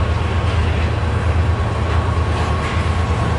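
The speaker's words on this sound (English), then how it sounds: "Here's this one." CN freight train rolling westbound through Port Huron, a steady low rumble with a constant hum and faint upper clatter, sustained and fairly loud throughout with no talking.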